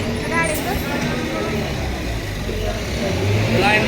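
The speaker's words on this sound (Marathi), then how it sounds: "आता आली बघा गाडी" A bus bound for Indapur rumbles in with its engine noise rising toward the end, while people talk nearby over the steady road and engine hum.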